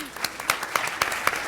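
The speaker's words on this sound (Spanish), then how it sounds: "les pido un aplauso de bienvenida" Short burst of welcoming applause from a conference audience greeting a magistrate on a judicial independence panel, with sharp separate claps standing out, thin and brief like a smaller crowd.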